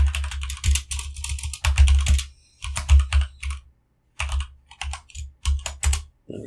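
HTML code is typed on a computer keyboard in quick, loud, close bursts of clattering keystrokes, with short pauses between runs and no talking.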